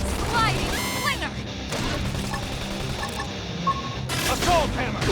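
Sliding Slinger attack in Xenoblade Chronicles X combat, a run of crashing, gunfire-like impacts and booms over game music, with voices calling out.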